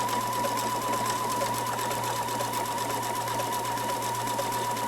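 A sewing machine stitches smocking in a steady, even whir, close and constant for several seconds without pause and without talk.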